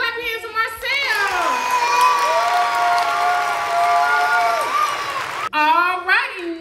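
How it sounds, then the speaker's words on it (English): Young children cheer and shout at home during a baking session, a loud sustained whoop with sung voices, ending in a short burst of noise before a kid speaks. "Clap your hands for Marcel."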